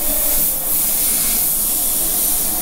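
An airbrush sprays paint onto a hat in a graffiti-style design, making a loud, close, continuous hiss that dips briefly once before carrying on evenly, with no voices.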